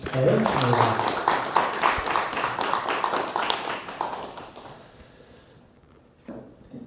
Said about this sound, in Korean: 우리 박수 한번 하실까요?